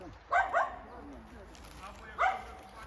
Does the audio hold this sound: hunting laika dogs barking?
yes